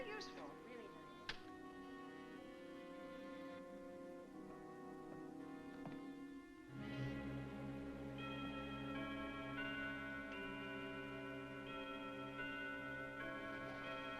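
A clock ticks steadily in a 1959 film scene, faint and mostly buried beneath sustained orchestral music that swells in the second half.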